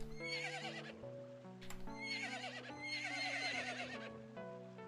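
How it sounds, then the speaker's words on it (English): Horse neighs and whinnies repeatedly in the video game Final Profit: A Shop RPG, loud and close with steady clip-clop hooves and game music underneath, no talking. "It makes horse sounds."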